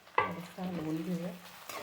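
Ginger-garlic paste being stirred into fried onion in a kadhai for chicken biryani: a sharp scrape of the spoon, then a quiet, short sizzle and stir close by.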